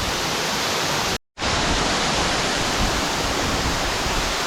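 Flowing stream of water at Sudagala, swollen after rain, a dense continuous rushing wash up close, broken by one brief silent gap.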